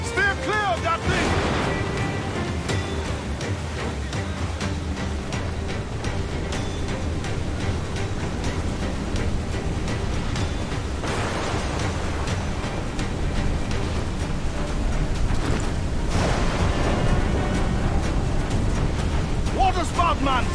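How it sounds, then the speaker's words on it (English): Open-sea ambience around a water spout in the pirate video game Assassin's Creed IV Black Flag: a steady, loud roar of wind and crashing surf with a creaking ship, continuous throughout while voices call out over it. "Water spout, man! Stay away!"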